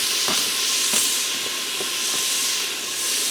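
Diced onion dropped into hot olive oil in an Instant Pot, giving a steady, loud sizzling hiss throughout with a few faint clicks and taps on top.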